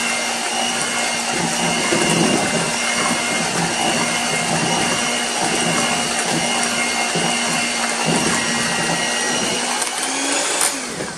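A stand mixer runs on low speed, beating cheesecake batter, as a loud, steady motor whine with a constant hum that continues throughout, then fades slightly at the very end, with no talking.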